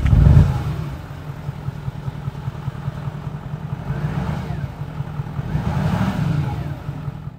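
A 2016 Porsche Cayenne S with a 4.1 litre V8 diesel revs in a few rising and falling swells over a low, steady idle rumble, heard close up with no talk over it.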